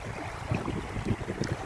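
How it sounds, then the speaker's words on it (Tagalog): Strong wind gusting across an open lake with choppy water, a steady low roaring rush with buffeting wind noise on the microphone, continuous and close. "Sobrang lakas ng hangin talaga."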